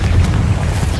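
Confringo explosive spell in the video game Hogwarts Legacy, a short, loud, booming rumble that holds steady through its brief length, with no talking.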